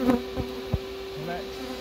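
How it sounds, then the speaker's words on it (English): Buzzing of a swarm of Africanized killer honey bees clustered inside a house wall during a colony removal, a faint steady drone with a couple of soft knocks, and a bee vacuum hums low in the background. "See the big clump of bees here."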